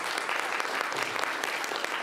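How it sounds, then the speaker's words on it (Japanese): An audience at an architecture symposium panel on generative AI claps for the panelists, a brief, dense burst of steady applause at moderate level with no speech over it. "では皆さんの山田先生と西澤さんにもう一回大きな拍手をお願いします。"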